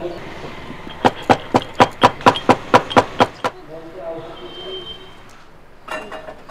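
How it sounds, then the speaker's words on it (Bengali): Cardamom pods are crushed with about ten evenly spaced, sharp pounding knocks in quick succession, followed by quieter fumbling sounds and a final brief burst of knocks, close and loud. "এখন আমি এলাচটা একটু থেতো করে নেব।"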